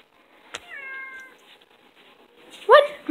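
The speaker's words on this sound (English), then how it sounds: "Dylan, can you pick up my cat?" A pet cat gives a short meow, then after a pause a louder, sharper meow close by, with a faint tap or click early on and no talking.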